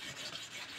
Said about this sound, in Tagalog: Lilihain ko po siya.